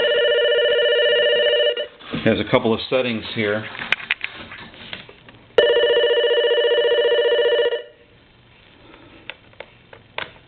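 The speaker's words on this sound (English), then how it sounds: "let's ring the phone" Old Radio Shack telephone on a repair bench rings with a loud, steady electronic warble in two long bursts, separated by close-up clicks and someone speaking between them.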